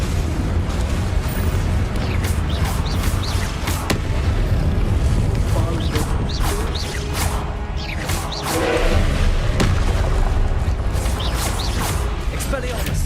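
Explosive Confringo and Incendio spells in Hogwarts Legacy, heard as repeated booming blasts and fiery bursts in a dense, steady wash of game sound, with voices in places.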